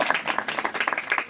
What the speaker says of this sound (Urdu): آئیے زور سے تالیاں خدا کے لیے